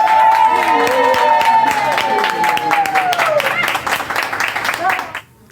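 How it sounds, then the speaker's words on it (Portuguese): Applause and cheering from a crowd during a live Brazilian news broadcast, dense clapping under a steady announcer's voice, fading out at the end. "Uma salva de palmas para Sandra!"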